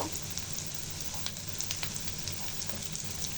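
Garlic, cumin and ginger pastes sizzling with onions in oil in a pan for koi fish bhuna, a soft, steady fry with small crackles and pops, close but quiet, no talk.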